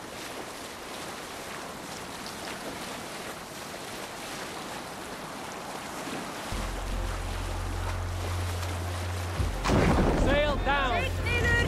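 A sailing ship moves across open water in Assassin's Creed Valhalla, with steady wind and wave wash, a low droning hum entering partway through, and a shouted command near the end.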